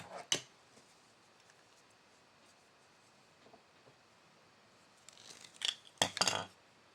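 Beading thread being cut with scissors: a short snip near the start, then a quiet stretch, then a few crisp clipping sounds close together near the end.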